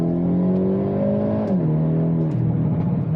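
Hyundai Elantra N with stock exhaust pulling hard while driving, engine note climbing steadily then dropping at gear changes, close and fairly loud with no talk.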